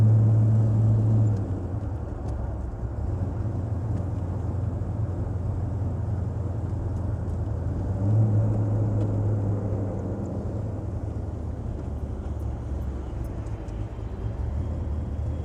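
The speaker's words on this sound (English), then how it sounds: "Only a GTO tri-power sounds like that." A 1964 Pontiac GTO convertible with a tri-power carburetor setup runs steadily, a low rumbling engine drone heard from inside while riding, fairly faint with a brief swell partway through.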